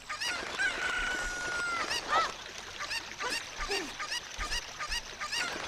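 A chicken in the video game The Legend of Zelda: Ocarina of Time clucks and squawks in short, repeated calls at low volume, with a drawn-out crowing cry early on and faint game ambience underneath.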